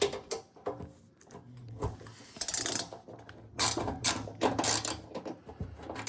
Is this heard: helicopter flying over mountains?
no